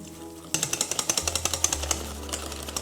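Egg yolks and powdered sugar beaten together for pastry cream, a fast, steady run of close, rattling mechanical pulses from an electric mixer that start abruptly and continue to the end.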